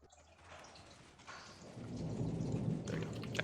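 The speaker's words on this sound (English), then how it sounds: "Oh wow, it's going to rain probably soon." Minecraft rain and thunder build from a soft hiss into a steady downpour, with a low rumble of thunder rolling underneath, loud and close throughout.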